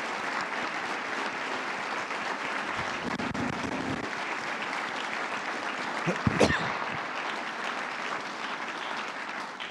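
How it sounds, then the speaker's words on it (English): Audience applause for students at a medical university event, a continuous crowd of clapping hands holding steady for nearly ten seconds, with a brief louder burst partway through. "Give them a round of applause, please."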